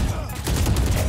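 Gunfire from the tactical shooter video game Valorant, a dense burst of rapid shots packed into about a second. It plays loud and continuous against a faint spoken cue.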